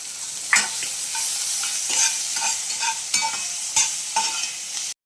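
Onions frying in oil in a kadai, with a steady sizzle broken by several sharp scraping stirs of a spoon against the pan, close and fairly loud, with no one talking.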